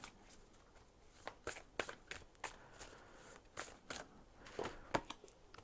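Tarot cards from an Angel Wisdom deck are shuffled and pulled, giving a faint, close run of soft riffling snaps and card flicks with brief pauses.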